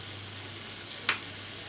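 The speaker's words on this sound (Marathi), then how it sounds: "आता याला तडका देऊया। तेल एकदम गरम गरम तापवलेलं आहे।" Urad dal dropped into very hot oil for a tadka on dahi pohe, with a faint steady sizzle, a low hum underneath and one or two brief crackles, quiet and close, no speech.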